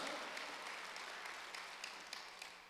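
Congregation clapping together at a Wednesday church service, a steady, fairly quiet wash of many hands with sharper individual claps poking through, no clear speech over it.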